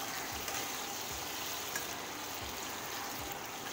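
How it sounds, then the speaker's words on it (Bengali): Potato pieces fry slowly in oil in a pan over low heat, giving a steady, soft sizzle and crackle that goes on without a break, fairly quiet, with no voices. "আলু ভাজা"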